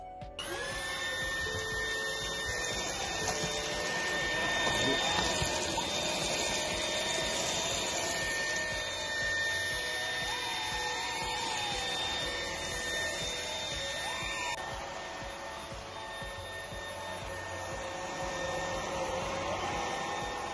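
A Dreame V11 cordless stick vacuum cleaner runs continuously with a high-pitched motor whine and airy suction hiss as it picks up spilled coffee and sugar, its tone shifting slightly partway through.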